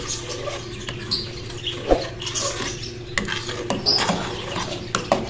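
A spoon stirring thick carrot kheer (gajrela) in a pot and scraping its sides, with irregular clinks, taps and soft scrapes over a faint bubbling background, close and moderately quiet.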